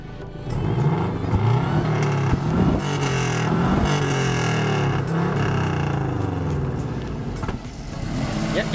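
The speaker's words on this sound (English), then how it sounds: "We're gonna put the car up on some ramps" A Subaru's engine drives it up onto a set of ramps. The engine noise is loud and steady and holds from start to finish with a low rumble, and a faint murmur of voices sits under it.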